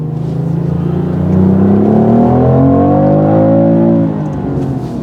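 A 2025 BMW X3 engine pulls hard while driving, a steady loud hum whose tone climbs through the middle of the run, then eases off near the end.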